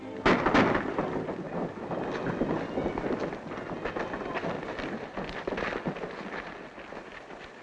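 Gunfire in a 1937 western film, scattered shots crackling through a noisy old soundtrack with a steady rumbling background, fairly distant and irregular rather than one clear volley.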